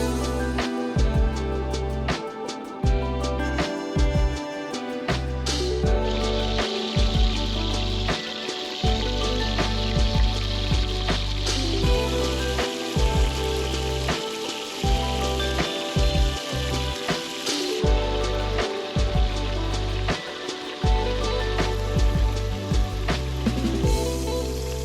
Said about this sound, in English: add a high temp oil to fry up the meat. Go ahead and add your little venison cube babies and brown on all sides